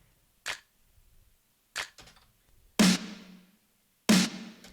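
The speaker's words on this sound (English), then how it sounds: "I then also layered the snare with a clap sound." Isolated clap samples: a few sharp, dry claps followed by two fuller, brighter hits with a short noisy tail, spaced apart and alone.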